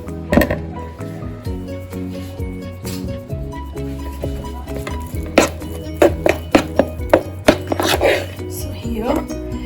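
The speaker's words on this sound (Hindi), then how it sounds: "मैं इसमें ये mixed berries डाल दूंगी and उसको मैं फिर से अच्छे से मिक्स कर दूंगी" A spoon mixes mixed berries into mug cake batter in a cup, giving a string of sharp, close clinks and taps against the cup, some in quick regular succession, over faint background talk.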